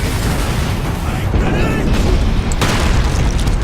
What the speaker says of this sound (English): I punched you so hard you exploded into green blood!